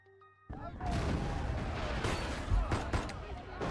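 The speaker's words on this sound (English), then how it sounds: "Gunfire and sound of tables and chairs getting knocked over." In a video game scene, after a brief quiet start, loud bursts of gunfire erupt amid tables and chairs crashing and clattering over, dense and chaotic, with a few sharper cracks near the end.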